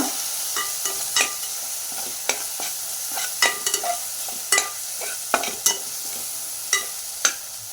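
Chilli, coriander and biryani spice powders sauté in a pan for veg biryani, giving a soft sizzle punctuated by frequent scraping and clacking of a spoon stirring the mixture.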